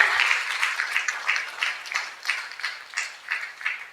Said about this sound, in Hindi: जोरदार तालियां प्रभु यीशु मसीह के लिए।